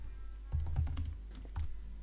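Keystrokes on a computer keyboard as a project name is entered, a short burst of clicky taps then a brief second flurry, close and fairly quiet with no talking.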